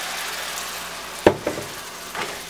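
A little broth is added to onion masala frying in a pan, raising a sudden splashy hiss over a steady low sizzle, followed by a couple of softer bubbling splutters.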